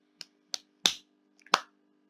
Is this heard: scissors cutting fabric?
no